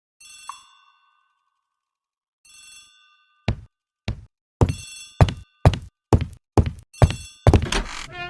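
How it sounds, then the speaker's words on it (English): In the Agatha Christie: The ABC Murders video game, a hall telephone rings in two bell bursts, followed by a series of loud, evenly spaced thunks that quicken toward the end. "The telephone in the hall is ringing."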